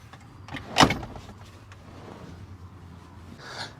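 Rental camper cab seat swivelled toward the living area, a sharp mechanical clunk and scrape early on, followed by quieter shuffling and a soft click near the end, close by with no speech.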